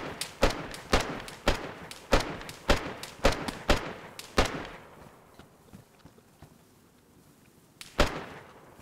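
A shooter video game produces a quick series of sharp gunshots at a steady rhythm. The shots stop for a few seconds of quiet, then one more loud shot follows.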